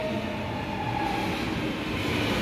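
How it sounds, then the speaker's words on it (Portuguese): São Paulo metro train arriving on freshly ground rails, a loud steady rolling rumble with a thin tonal whine riding on top, heard on its own without voices. "Parece que esmerilharam os trilhos. Aí o som ficou bem bonitinho ali."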